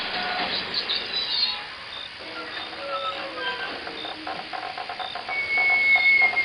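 A steam train sound effect in a rural ghost story plays a sustained hiss with faint rhythmic rail clatter. A thin whistle-like tone rises near the end as the sound grows louder.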